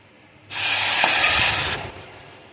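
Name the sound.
water poured into pan for sugar syrup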